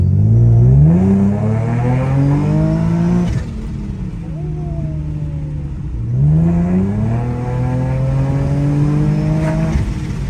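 An Infiniti/Nissan Z car fitted with an upgraded transmission oil cooler makes two hard acceleration pulls, the engine note climbing steeply through the gears, briefly easing off between runs, loud and close from inside.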